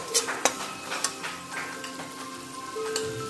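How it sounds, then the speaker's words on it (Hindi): Spiced filling with garam masala is roasted in a pan for samosas, a soft sizzle running under a series of quick taps and scrapes from a spoon on the pan, close by and with no talk. "2 चम्मच गरम मसाला डालेंगे, इसको थोड़ा सा भून लेंगे जिससे आलू का कलर अच्छा आता है।"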